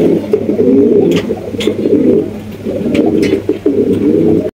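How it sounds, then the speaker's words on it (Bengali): A pair of blue pigeons coo continuously up close, a low rolling burble repeating in waves, with a few faint clicks and flutters mixed in. "মাশাআল্লাহ চমৎকার একজোড়া ব্লু আর শোকিং কবুতর দেখেন"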